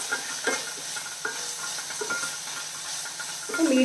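Green chillies and okra being sautéed in a pan over a medium flame, giving a steady close sizzle and hiss with a few soft stirring scrapes and clinks spread through, rising a little louder at the end.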